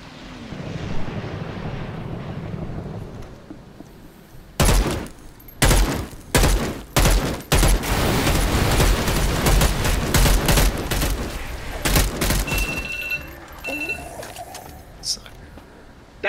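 Mortar fire and explosions in the Dead Island 2 video game: a run of loud, sharp blasts in quick succession after a quieter stretch, with rumbling debris and a voice talking between impacts.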